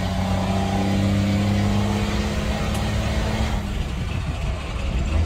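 Engine revving and pulling away during a driving lesson, a loud steady drone close by that rises as the vehicle accelerates, with no talk.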